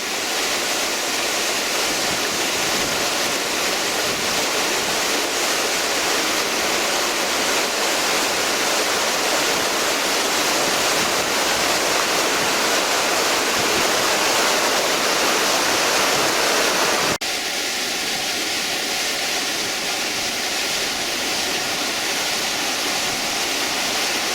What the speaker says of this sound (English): This one's quite magnificent really, with the amount of water coming through.